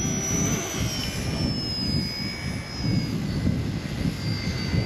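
RC ERA UH-1 model helicopter flying outdoors in wind, a steady high-pitched electric motor whine with rotor buzz that holds loud and continuous throughout, rising and falling slightly in pitch.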